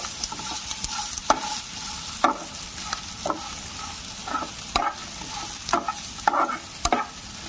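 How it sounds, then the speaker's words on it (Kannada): Dried red chillies fry in oil in a pan with a steady close sizzle, while a spoon scrapes and stirs through them in repeated sharp strokes every second or so. "ಇದು ನೀಟಾಗಿ ಫ್ರೈ ಆಗಾಕ್ಬಿಡ್ಬೇಕು."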